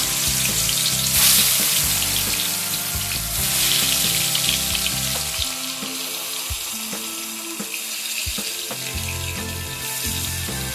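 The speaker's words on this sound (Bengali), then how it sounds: "এবার আমি মাছের পিসগুলো তেলের মধ্যে দিয়ে দিচ্ছি।" Pieces of rohu fish dropped into hot mustard oil, a loud hissing sizzle and crackle throughout, with occasional sharp pops and spatters close by.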